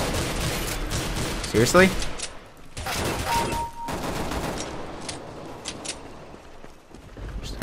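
Pistol gunfire in a CS:GO match, a quick cluster of sharp shots near the two-second mark followed by scattered fainter pops, with a player talking over the action.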